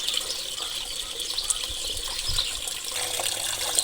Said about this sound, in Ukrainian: вже водичка біжить